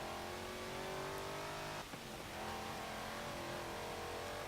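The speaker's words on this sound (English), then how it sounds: "This is the Hellcat engine as well, by the way, if you're wondering what V8 supercharged engine it is." In Forza Motorsport 7, a 2012 Jeep Wrangler Rubicon carrying a supercharged Hellcat V8 drones at steady high revs, with a brief dip like a gear shift before it pulls on.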